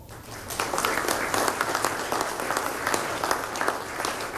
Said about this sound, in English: let's give our military leadership, sea services, and everything a round of applause.